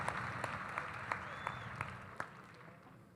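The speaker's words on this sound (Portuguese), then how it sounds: "Uma salva de palmas ao senhor Antônio Amaral, palestrante, protagonista da nossa cidade." An audience at an international seminar applauds for Antônio Amaral, a fairly quiet, steady patter of clapping with a few sharper claps, fading toward the end.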